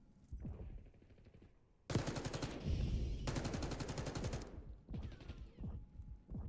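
Loud bursts of rapid automatic gunfire in a competitive 8s tournament shooter match, two sustained volleys of a few seconds each, then a shorter burst, with quieter game sounds between.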